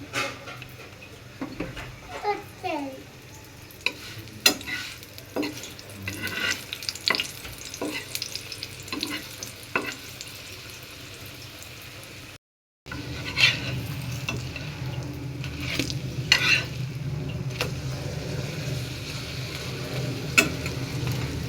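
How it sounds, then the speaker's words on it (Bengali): Flatbread frying on a tawa in mustard oil, a steady close sizzle with scattered stirring and scraping clicks, continuing after a brief cut partway through. "উল্টে পাল্টে ভেজে নিয়ে এবার এর মধ্যে তেল দিয়ে দিচ্ছি"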